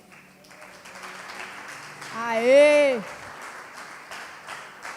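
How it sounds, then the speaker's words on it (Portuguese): A church congregation applauds, a soft wash of many hands clapping beneath a woman's loud, drawn-out cheer in the middle, with talking voices around it. "Vamos aplaudir eles?"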